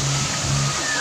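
River water flows in a steady, full rushing wash, close and continuous for a brief moment, with a faint voice beneath it.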